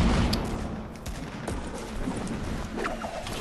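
Gunfire in the Fortnite video game, including sniper shots, cracks out in a busy burst of repeated reports over a noisy battle backdrop, several sharp shots standing out against continuous rattling fire.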